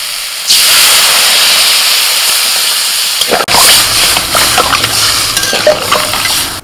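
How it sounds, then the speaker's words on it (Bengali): Water hits a hot pan of frying mutton paya cooked down with spices, salt and turmeric, giving a loud hiss and sizzle that breaks partway through into bubbling and the clatter of stirring. "এবার এর মধ্যে আমি জল দেবো।"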